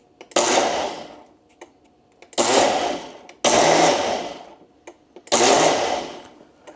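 A blender pulses a keto maple pecan custard mixture in four short bursts of about a second each, loud and close, separated by brief pauses.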